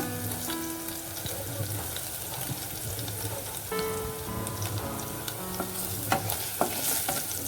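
Chicken Manchurian pieces fry in hot oil with a steady, close sizzle and bubbling, punctuated by occasional stirring clinks; no voices.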